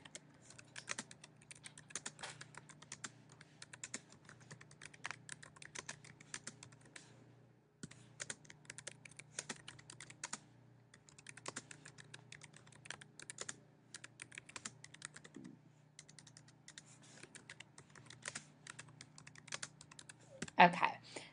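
Keys clatter on a computer keyboard in quick, irregular bursts with brief pauses, close and fairly quiet, as text is entered into a web page editor.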